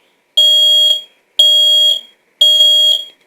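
First Alert P1210 smoke alarm sounds its code 3 pattern: three loud, piercing high-pitched beeps, each about half a second long, evenly spaced with short gaps between them, close to the listener.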